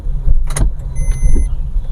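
A car engine pulls uphill in second gear along a narrow road under careful clutch control, giving a steady low rumble with a few light clicks and rattles and no voices.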